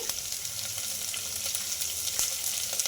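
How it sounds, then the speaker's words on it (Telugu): Onions fry in a pan with curry leaves and salt, giving a continuous close sizzle with faint stirring scrapes and no talk. "ఇందులోకి కొద్దిగా కరివేపాకు కొద్దిగా సాల్ట్ అయితే వేసుకుంటున్నానండి ఎందుకంటే త్వరగా మగ్గుతాయి ఆనియన్స్"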